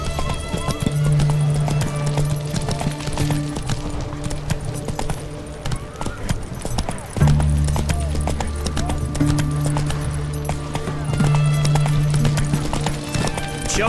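Horse hoofbeats from riding in The Witcher 3, a steady loud clip-clop that runs throughout over a continuous background hum and game ambience.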